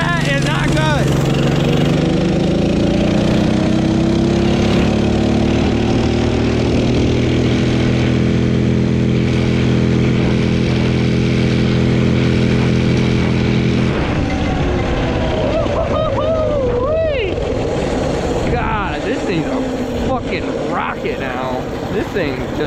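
A cheap minibike engine with a worn clutch runs loud and steady at top speed for a long stretch, its droning pitch holding level before dropping and wavering as the bike slows; the engine stays close and continuous throughout.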